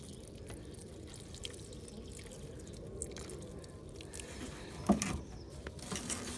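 Water drips and patters faintly from plants being watered in a garden, soft irregular droplets over a quiet outdoor background, with one louder splash near the end.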